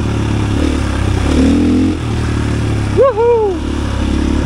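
A 2022 KTM EXC-F 500 enduro motorcycle rides on a morning outing, its engine droning steadily up close with a brief revving swell, and a rider's short excited shout cuts through near the end.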